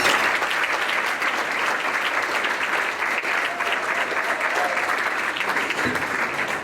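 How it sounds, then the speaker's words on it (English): Sustained applause from an audience at a high school hall of fame and athletic awards dinner, a dense steady roar of many hands clapping throughout at even loudness. "That's just applause"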